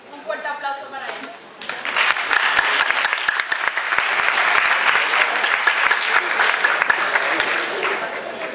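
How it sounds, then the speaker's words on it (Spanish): An audience breaks into loud, sustained applause for high school students at a presentation. A voice speaks briefly just before the clapping starts, and the clapping holds steady to the end. "Un fuerte aplauso para ellos."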